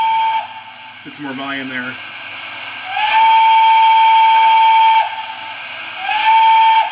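Banshee whistle on an MTH O scale model steam locomotive, a rare CNJ 113 0-6-0 switcher: a steady high tone sounding in three long blasts, a brief one at the start, and a person speaking briefly between them.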